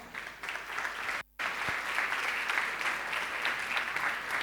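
Congregation in a church clapping steadily as someone is welcomed forward, a dense even wash of applause with a brief sharp dropout near the middle before it resumes at full strength.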